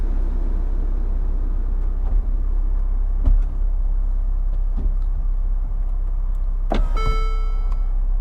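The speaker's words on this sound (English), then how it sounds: "The roof folds away." Mercedes SL400 Edition folding hard-top roof stowing away after the boot lifts, a steady electric motor hum with a few mechanical clunks and a final latching thud, close up with no talking.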